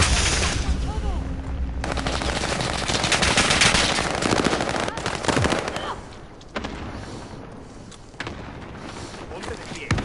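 Light machine gun fire rattles through a Warzone 2 match in long rapid bursts, mixed with other gunfire and game sounds, with voices talking over the action.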